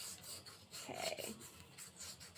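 Sandpaper rasping against a rock by hand, a steady gritty scrubbing in repeated strokes, close and moderately loud with no talking.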